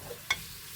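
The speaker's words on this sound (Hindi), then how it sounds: "तो अच्छी तरह यहाँ पर मीट को भूनना।" Small pieces of meat fry in a pan with a low, steady sizzle, broken by one brief sharp clink.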